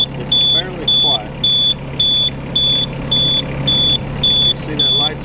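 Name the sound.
Yanmar Vio25-6A mini excavator warning beeping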